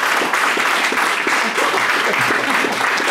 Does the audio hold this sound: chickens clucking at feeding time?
no